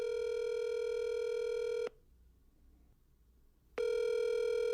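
Telephone call placed to a bank: a steady dial-type tone plays for about two seconds, breaks off into near silence, then returns loud and steady, with no talking.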